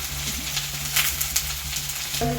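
Green chilies and curry leaves sauté in a pan, giving a steady close sizzle with light crackle and a low background hum, and a short tonal clink right at the end.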